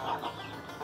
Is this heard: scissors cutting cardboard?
no